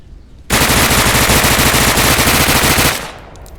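An MP5 submachine gun in the game Deadside fires one long, unbroken automatic burst of about two and a half seconds, loud and close, then cuts off abruptly with a brief tail.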